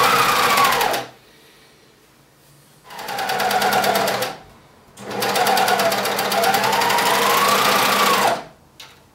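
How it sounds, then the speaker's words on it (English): A serger overlock machine stitches along trouser side-seam fabric edges in three loud, fast whirring bursts, separated by short pauses. "So I'm going to serge along this edge and serge around that edge, so that both pieces are finished individually."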